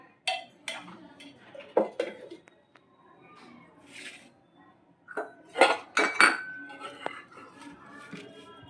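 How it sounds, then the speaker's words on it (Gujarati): A spoon clinks against a bowl while mixing a spice masala of chilli powder, garlic chutney, jaggery, salt and oil for stuffed bitter gourd, in a series of sharp, close clinks and scrapes with pauses between them. "એક ચમચી જેટલું તેલ એડ કરી અને મિક્સ કરી લેશું."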